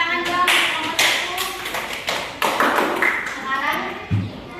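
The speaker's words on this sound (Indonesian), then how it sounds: "tepuk tangan dong nomor 1." Children in an Indonesian classroom clap in a loose rhythmic pattern, a few bursts of hand claps and taps with a thud near the end, while voices talk and chant along over them.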